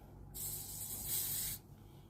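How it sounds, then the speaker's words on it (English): Hair spray hisses from a can in one steady burst of about a second and a quarter, close and fairly loud, with quiet room tone before and after. "Now you don't have to use the spray if you don't want it"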